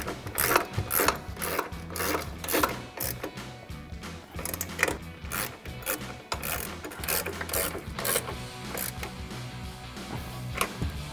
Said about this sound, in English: I'm gonna go in with that electric ratchet with the 18mm socket in the back again.